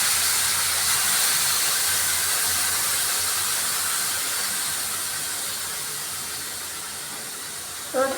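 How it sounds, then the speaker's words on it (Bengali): Strained mustard water poured into a potato-eggplant mustard curry in a hot pan gives a loud, steady sizzling hiss that slowly fades, with no talk. "এখন এই সর্ষের জলটা আমি ওপর থেকে দিয়ে দিচ্ছি"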